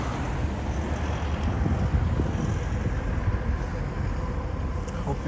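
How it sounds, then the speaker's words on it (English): Strong wind buffets a microphone outdoors in Tokyo, a loud continuous low rumble and roar that fills the whole stretch without pause. "it's actually way windier than I expected today"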